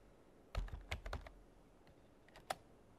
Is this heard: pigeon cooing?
no